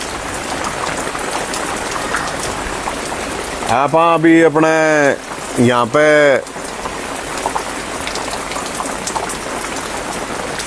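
Heavy rain pours steadily outdoors near a hut and a green badminton ground, a dense close hiss throughout, with someone speaking briefly over it in the middle.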